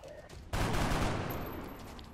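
Gunfire from the video game XCOM: Enemy Within bursts in suddenly after a quiet moment, a loud dense volley that rumbles and slowly fades over about a second and a half.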